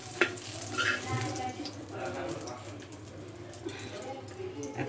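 Eggplant fries in a pan with a moderate, uneven sizzle and occasional utensil clinks and stirring, heard fairly close with a voice speaking over it.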